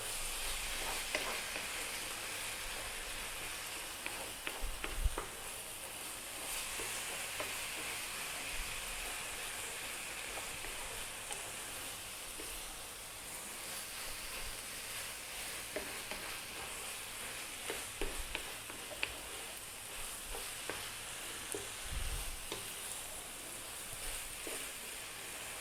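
Cabbage, egg and spinach sizzle steadily over medium heat in a pan, a soft continuous hiss broken by occasional scrapes and taps of stirring, heard quietly with no voices.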